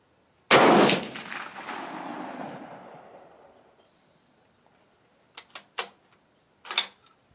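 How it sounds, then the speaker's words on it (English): A single loud, close rifle shot from a Springfield 1903A4 hybrid at a range, with a long decaying echo, followed by a few quieter clicks and clunks of handling the rifle. "I am going to take a shot first, right in the middle of my black shoot and see"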